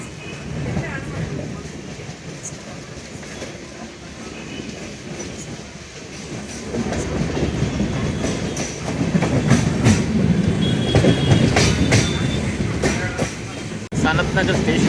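A passenger train rolls along the railway near Sanath Nagar station with a constant rumbling roar and clickety-clack of wheels on rail joints, growing louder midway, with voices faintly in the background.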